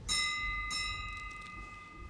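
A small hand bell rings at a devotional talk, two bright clear strikes with a long shimmering ring that slowly fades, loud and close with no talking.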